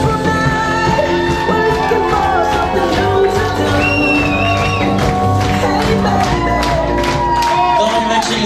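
Wedding guests stand and welcome the newlywed Todorov couple with a loud, sustained burst of applause and cheering, crowd noise layered over steady background music throughout.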